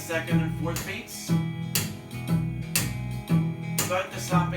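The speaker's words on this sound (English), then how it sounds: "You can put a little bit of slapping in between on the second and fourth beats." A second cello part for a song plays pizzicato, with percussive slaps on the body on the second and fourth beats, a steady bouncing rhythm repeating several times.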